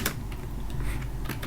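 Someone typing a terminal command on a computer keyboard while coding in Go, with light, quick keystrokes over a steady background hum and no talking.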